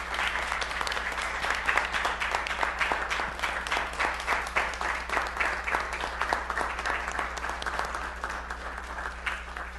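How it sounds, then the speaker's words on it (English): Steady audience applause fills a committee meeting room, many hands clapping continuously at moderate loudness for the full stretch, slightly tapering toward the end, with no talk over it. "if everybody would please join me in giving Chief Farmer a round of applause."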